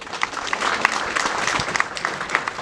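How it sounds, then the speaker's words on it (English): A crowd at a World Hearing Day march event in Bulawayo applauds steadily, many hands clapping together in a sustained burst of even, dense claps. "A round of applause for talk."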